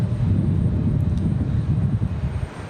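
A United jet taxiing toward the runway at Raleigh-Durham airport, a continuous low engine rumble with some wind buffeting, steady and moderately loud, no talk.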